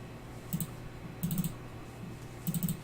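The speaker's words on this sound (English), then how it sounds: "Sorry, I know there's a lot of clicking" Computer keyboard typing and mouse clicking at a desk, heard as three short bursts of rapid keystrokes and clicks separated by quiet pauses, fairly close and alone with no talk.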